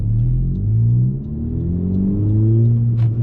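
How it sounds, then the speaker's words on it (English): A 10th-generation Honda Civic Si fitted with a PRL short ram intake revs in low, rising and falling sweeps, loud and close, heard from inside the car with no talking. "I do also have a PRL short ram intake, so it makes some fun sounds."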